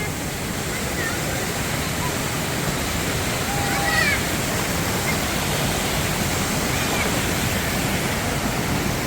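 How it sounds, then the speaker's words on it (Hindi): Phurli Jharan waterfall in Odisha, a loud steady roar of falling water filling the scene from start to finish. "ये है वाटरफॉल, बहुत ही बेहतरीन जगह है"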